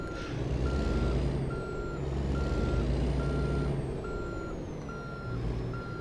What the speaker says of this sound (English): No, stick it in reverse.